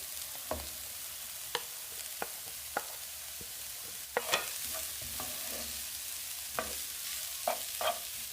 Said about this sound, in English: Stir fry it for about 3 minutes.